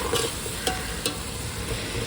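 Tomato and onion fry in a pan with a dense, even hiss, punctuated by two or three light utensil clicks, close and continuous, with no voices.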